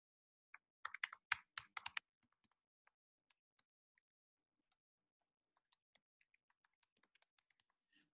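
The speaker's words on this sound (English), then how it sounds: "so I'm typing it" Quick bursts of keystrokes on a computer keyboard, close and fairly quiet, a dense flurry at first and then sparse single clicks, with no talking over them.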